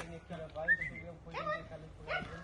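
A dog whimpers and gives short high yips in a few rising, whining bursts at an outdoor site where a stone house is being built in Portugal, with low background noise and possible voices nearby.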